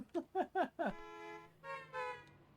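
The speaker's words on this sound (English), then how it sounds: "they're honking because the signals, the traffic lights are currently off" Vehicle horns honk in the Trainz 22 railway simulator at a spot where the traffic lights are off: four quick toots, then longer, sustained horn blasts at moderate volume.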